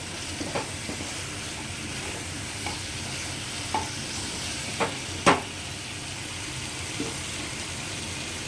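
Steamed taro and spices fry in a pressure cooker under a steady sizzle, while a spoon stirs and scrapes the pot with several sharp knocks spaced across the stretch and no talk.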